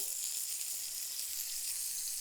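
Steak sears in a hot black iron pan with a steady, close, bright sizzle that holds constant, with no talk over it.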